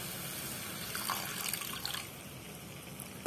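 Water pours into a pan of banana blossom sabzi that has been sautéed on a low flame, giving a steady close splashing and trickling stream that lasts throughout, with no talking.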